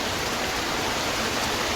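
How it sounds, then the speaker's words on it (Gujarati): Heavy rain falls steadily in Gandhinagar, a dense, continuous hiss of water with no breaks, close and fairly loud, with no voices. "આજે વરસાદ ફૂલ ચાલુ હોય,"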